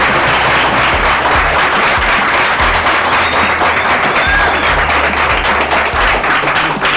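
An audience in a school setting applauds a teacher, sustained dense clapping for several seconds with brief voices mixed in.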